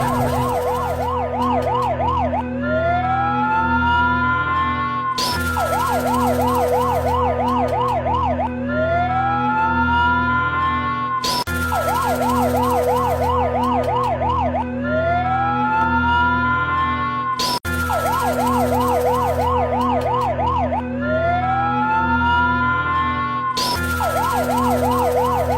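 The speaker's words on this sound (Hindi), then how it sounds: "सायरन" A Rescue 1122 ambulance siren in Mansehra cycles loudly and continuously, alternating a rapid warble with a rising wail in a repeating pattern, close and unbroken throughout.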